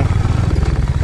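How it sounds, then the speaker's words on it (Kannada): Royal Enfield motorcycle on a hill road ride near Krishnagiri Fort, its engine thumping with a steady low pulse up close, loud and continuous through the short moment. "ಈ ರಾಯಲ್ ಎನ್ಫೀಲ್ಡ್ ಬೈಕ್ ಟರ್ನ್ ಮಾಡಲಿಕ್ಕೆ ಕಷ್ಟಪ್ಪ"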